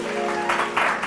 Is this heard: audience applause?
yes